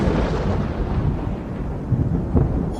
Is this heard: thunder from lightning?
yes